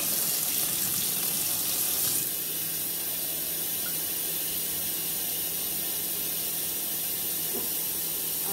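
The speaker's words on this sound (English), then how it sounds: "I'm going to fill my jars up with hot water." Hot tap water runs steadily into glass canning jars at a kitchen sink, a continuous rushing stream that shifts slightly in tone after about two seconds, with no talking.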